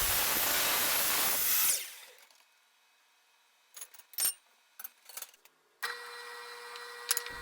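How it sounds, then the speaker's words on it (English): A power drill bores small bolt holes into the ends of square aluminum extrusion posts. It whines loudly and steadily for under two seconds, then stops, followed by faint scattered clicks and handling knocks and a low background hum. "I am drilling a small hole in each end of the aluminum posts for a small bolt"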